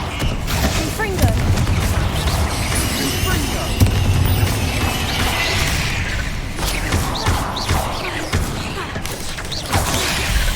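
Confringo fire spell blasting repeatedly in Hogwarts Legacy, a string of booming impacts and crashes over a dense, loud game soundscape with music, several sharp bursts spread across the whole stretch.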